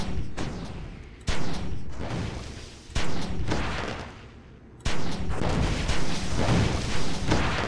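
Gunfire from the PC game Oni cracks out in several loud, sharp bursts spaced about a second apart, each followed by a short ringing decay, with no talking over it.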